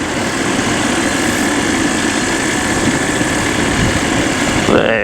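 A light aircraft engine drones steadily in the cabin as the throttle is closed on landing, the low rumble easing slightly toward the end amid some wind noise.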